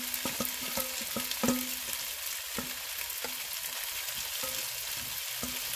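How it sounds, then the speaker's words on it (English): Garlic sizzles in a hot pan for a pork stir-fry with asparagus, peppers and onions, with a spatula scraping and clacking against the pan in repeated sharp strokes over a steady crackling fry. "I'm just stirring that real quick because I don't want the garlic to stick to the bottom and burn"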